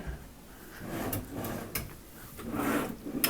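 Hotel room drawers at a TownePlace Suites in Dickinson, North Dakota, slide open and shut in a few separate wooden thuds and rubbing scrapes, close by and fairly quiet, with no talking.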